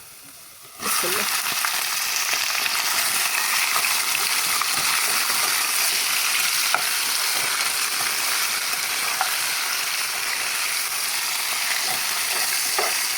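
Chicken drops into onions frying in oil, and a loud, continuous sizzle starts at once and holds steady throughout.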